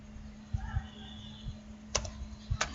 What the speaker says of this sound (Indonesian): kita mulai mengetik